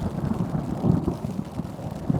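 A deep, rolling rumble of thunder during a storm while camping in a tent, low and continuous, with wind and rain noise mixed in.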